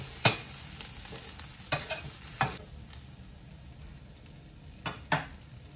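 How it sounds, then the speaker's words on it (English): Vegan burger ingredients sautéing in a pan over medium heat, a steady soft sizzle with a handful of sharp scraping stirs at irregular intervals, fairly quiet and close. "saute these over medium heat. Get them nice golden brown."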